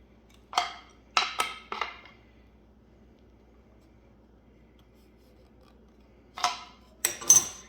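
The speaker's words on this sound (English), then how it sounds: "You're going to hear it, the wood cracking." Several short, sharp creaking cracks of wood under strain as it is tightened onto a drill attachment, in two clusters separated by a quiet pause.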